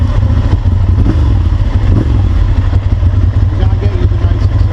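A Ducati 796 Monster motorcycle engine runs steadily and loudly at close range, its low rumble constant throughout, with some faint clatter over it.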